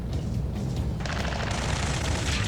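Sustained automatic gunfire in the video game Ace Combat 7, a dense rumbling barrage with heavy low booms that grows brighter and harsher after the first second, continuous to the end.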